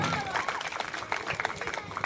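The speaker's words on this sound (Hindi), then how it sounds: "जोरदार ताली हमारे नेताजी के लिए।" Applause from an audience at a school annual-function play, a dense patter of claps with some crowd noise, steady for the whole stretch and fairly close.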